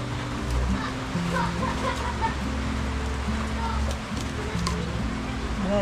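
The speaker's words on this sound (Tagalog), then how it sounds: "Ay, malakas na naman yung ulan." Steady hiss of heavy rain from Typhoon Helen pouring down, constant and dense, with a low hum and faint distant sounds beneath.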